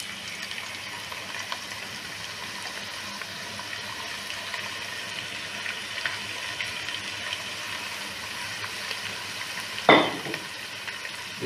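Sliced onions sizzle steadily in hot oil with whole cinnamon, cloves and mace for Malabar chicken biryani, a close, even frying hiss that continues without voices, broken by one sharp scrape of stirring near the end.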